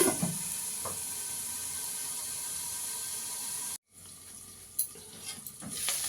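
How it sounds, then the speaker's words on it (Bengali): Potato pieces frying in hot oil in a pan, a continuous close sizzle and hiss with a brief dropout midway, then a clatter as the pan is handled. "আলুটাকে আগে একটু ভেজে নেবো, ঢাকা দিয়ে দেবো"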